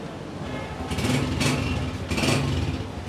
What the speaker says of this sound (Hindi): कस्टमर दोस्तों साउंड सुने गोल्ड एडिशन, कड़क साउंड, तबंग साउंड, बाइक